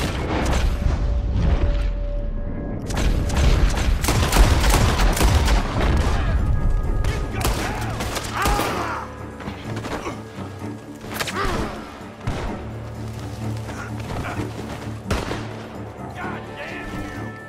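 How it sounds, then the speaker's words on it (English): Gunfire erupts from a barn in Red Dead Redemption 2, a dense barrage of loud shots and heavy booms with thuds and rattling, bursts continuing irregularly throughout. "Gunshots are coming from that barn!"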